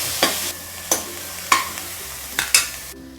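Onion sautéing with salt in a pan for clam sukka, with a few sharp spatula scrapes and stirs over a low sizzle, close up and without voices.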